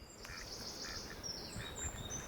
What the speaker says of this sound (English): Quacking away. Quack, quack, quack, quack, quack.